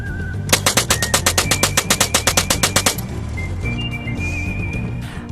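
A homemade DIY minigun fires .22 caliber rounds in a rapid, evenly spaced burst of about twenty sharp cracks over two and a half seconds, then stops, leaving a music bed underneath.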